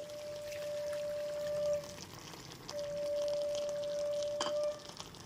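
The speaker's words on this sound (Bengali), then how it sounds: "এরপর এর মধ্যে সামান্য একটু জল দিয়ে দিচ্ছি" Water poured into chicken curry cooking in a pan, a soft, faint, continuous trickle running for several seconds against a quiet kitchen background.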